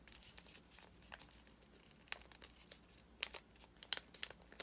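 Paper crinkles and creases softly as it is folded into a shape for a door decoration, with scattered small crisp rustles and snaps, close and quiet, no voice.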